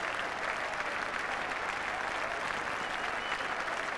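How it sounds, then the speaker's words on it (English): A large cricket crowd stands and applauds continuously, a dense, even roar of clapping from many people heard from a distance, with no single voice standing out. "All around the ground, people are standing and clapping."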